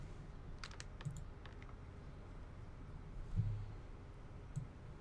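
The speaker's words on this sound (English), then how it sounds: "what you want to do is hold Shift and click Restore iPhone." Sparse clicks and light taps from a computer keyboard and mouse while restoring an iPhone 4, a few soft near clicks spread over a quiet background with no talk.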